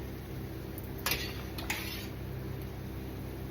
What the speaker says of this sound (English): just scrape out the frying pan and put everything on top, stir it around